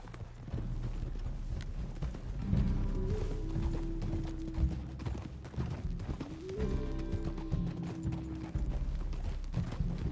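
A horse's hooves clip-clop steadily as it is ridden across open country in the video game Red Dead Redemption 2, a continuous, fairly close rhythm with a brief whinny, set under an ambient game score.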